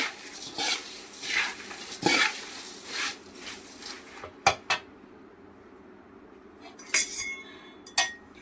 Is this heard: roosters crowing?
no